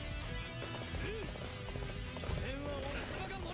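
Horse hooves clip-clopping at a run in the video game Dynasty Warriors 8 Empires, a rapid repeated beat mixed with game sound effects and someone talking over it.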